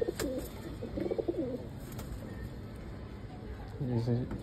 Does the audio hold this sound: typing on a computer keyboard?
no